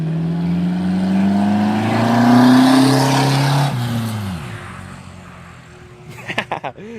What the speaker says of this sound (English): Yeah, you can kind of hear the turbo a little bit.